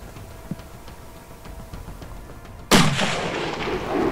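Single loud hunting rifle shot fired at game in the Alps, a sharp blast near the end that rings and echoes for over a second after quiet outdoor ambience with faint background noise.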